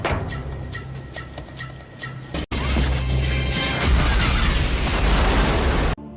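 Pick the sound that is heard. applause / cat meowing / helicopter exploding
helicopter exploding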